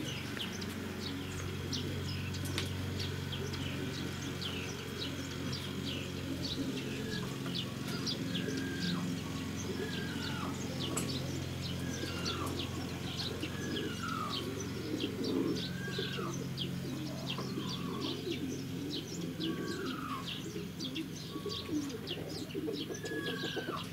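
Racing pigeons returning to their loft coo softly in a repeated rhythmic pattern, with scattered chirps and a steady outdoor hum behind them.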